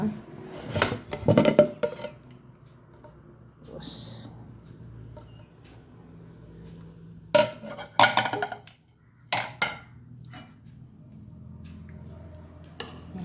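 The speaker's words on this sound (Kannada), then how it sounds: "ವಿಸಿಲ್ ತೆಗೆದಿಟ್ಟು ಮುಚ್ಚಳ ತೆಗೆದು ನೋಡುವ" Pressure cooker opened after cooking basale (Malabar spinach) saaru: the whistle weight is lifted off and the metal lid unlocked, giving several loud clanks and clinks of steel in separate bursts with quieter gaps between.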